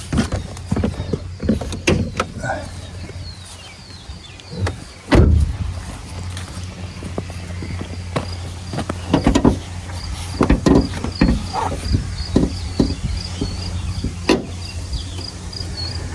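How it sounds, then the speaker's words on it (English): The hood of a GMC Acadia is popped open: a series of clicks and latch clunks, with one sharp, louder thunk near the middle, over a low steady hum. "So, let's pop the hood real quick and have that up and ready."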